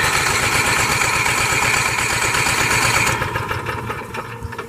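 Onboard generator on a 2020 Jayco Greyhawk 30Z motorhome running with a loud, steady, pulsing mechanical drone that eases off and quiets toward the end, heard alone without talk.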